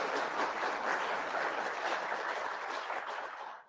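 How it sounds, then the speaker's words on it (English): A crowd claps at a law enforcement training academy graduation ceremony, with dense, even applause holding steady before fading out at the end. "You guys can clap."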